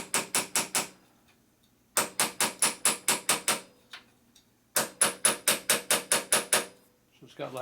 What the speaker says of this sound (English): we're just going to go ahead and bang the gas tank a couple times as I'm tightening the punch